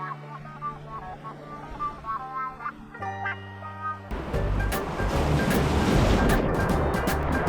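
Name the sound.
water flowing from lagoon onto beach, waves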